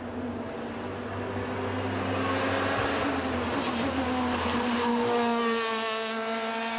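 Race car engine, the race-leading Ligier, during the Brands Hatch three-hour race, a loud sustained drone that rises in pitch as the car comes past, with a broad rush of track noise behind it.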